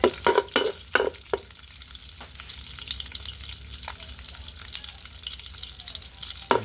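Garlic being sautéed in a pan, a steady close sizzle and frying hiss with a few sharp stirring scrapes and clacks at the start and again near the end, no talking.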